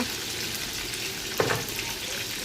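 Meat sizzles in a frying pan with a steady close hiss, and a single brief clink or stir lands midway.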